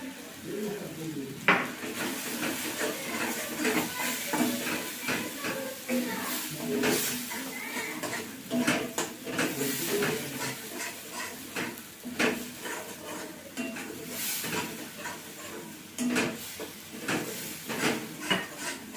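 Rohu fish cooks in a pan with green mango paste, a soft sizzle under steady stirring, with the spoon scraping and tapping the pan, while a voice talks throughout.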